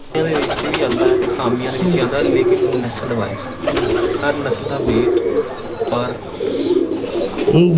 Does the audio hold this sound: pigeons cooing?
yes